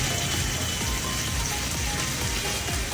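Prawns marinated with turmeric, salt and Kashmiri chilli powder hit a hot pan for balchao pickle. They give off a loud, steady, dense sizzle with a constant crackling hiss throughout.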